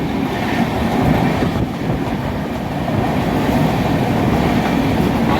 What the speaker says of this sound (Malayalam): ഇപ്പൊ ട്രെയിൻ ഒരു തുരങ്കത്തിനുള്ളിൽ കൂടെ പോകണം കേട്ടോ